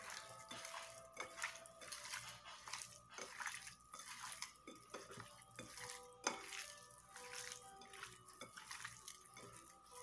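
Seasoned pork pieces for torresmo are stirred in a bowl, producing soft irregular scraping and clinking of utensil against dish, faint and close with no talking.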